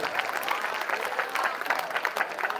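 An audience at a devotional tableau competition claps in a rapid, dense patter, a crowd of many hands applauding steadily throughout.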